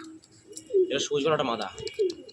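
Madras pigeons cooing close by in short throaty phrases, mixed with bursts of wing flutter and chirps, with someone talking among the birds.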